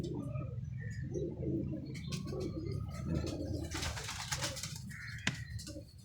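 Pigeons coo during a pigeon-flying match, with soft, low rolling coos repeating close by, mixed with rustling, a few sharp chirps and a brief clatter near the end.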